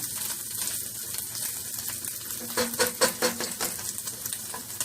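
Bacon and onion sizzling steadily in a pan for a beef ravioli casserole, with louder bursts of crackle as the food is stirred toward the end.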